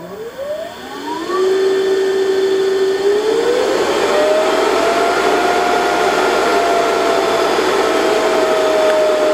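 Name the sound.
induction motor on variable frequency drive slowing down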